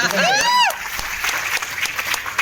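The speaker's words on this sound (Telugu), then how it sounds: "ఆ సార్కి ఒక్కసారి గ్రేట్ రౌండ్ ఆఫ్ అప్లాజ్ అండి" An audience breaks into a round of applause for a guest, with steady crowd clapping after a brief whistle-like sweep at the start, fairly loud and sustained throughout.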